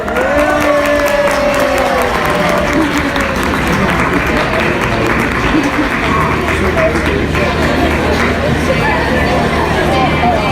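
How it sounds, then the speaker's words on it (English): A crowd at a children's beauty pageant preliminary claps and cheers for a young contestant, loud dense clapping with voices and whoops mixed in, lasting the whole stretch. "Oh, maybe if we clap for her a little bit more."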